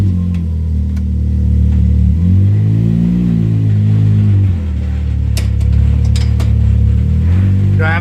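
A Can-Am X3 side-by-side drives around the block, its engine rumbling loud and near and rising and falling through a long rev, with a brief voice in the background.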